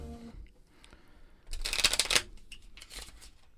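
A new, stiff deck of Pod Decks question cards riffle-shuffled close by: a loud burst of crisp card flutter about half a second long, then softer shuffling rustles.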